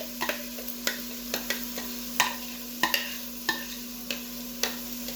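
Onion, peppers and tomatoes sautéing in a pan: a steady low sizzle with soft, irregular scrapes and taps of a spoon stirring, close and fairly quiet, with no voices.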